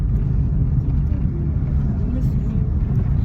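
Steady low engine rumble heard from inside a moving vehicle carrying children, a continuous close droning hum with no breaks.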